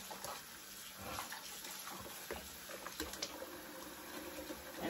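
Running water splashes softly over herbs being rinsed for tea, a faint, continuous trickle and slosh with small bursts as the leaves are moved, with no voices.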